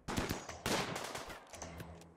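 Gunfire in the colony-building game RimWorld: a few quick bursts of shots in short clusters, fairly faint and heard without talk.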